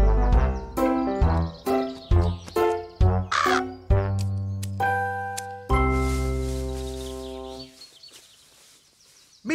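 A cartoon crow caws repeatedly in loud, harsh, tonal calls, a quick series of separate caws followed by longer drawn-out ones that fade away.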